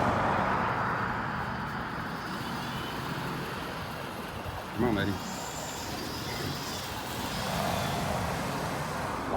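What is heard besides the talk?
road traffic noise, cars passing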